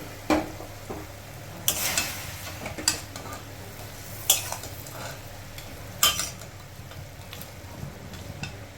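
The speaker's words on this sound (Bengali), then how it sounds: "কিছুক্ষণ নাড়াচাড়া করে নেব।" A spoon stirs cabbage with fried fish head and slit green chilies in a pan, making scattered scraping clinks against the metal over a faint, steady sizzle, with no one speaking.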